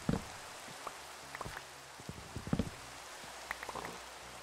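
Steady hiss of rain in the Minecraft video game, a soft even wash with scattered light drip-like ticks, moderately quiet and with no talking over it.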